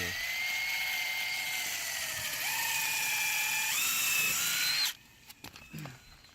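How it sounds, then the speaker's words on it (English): A power drill pre-drilling holes in wood for a porch banister repair whines steadily at high speed for about five seconds, its pitch stepping upward twice, then cuts off, leaving a few faint clicks and handling noises. "That's just going to make it that much more easy for me to pre-drill my holes"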